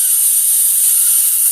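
Steady hiss of compressed air gently blowing over a cleaned Honda brush cutter part, a soft continuous airflow with no pauses and no talk.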